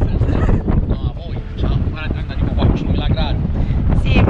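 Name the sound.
strong wind blowing outdoors on seaside rocks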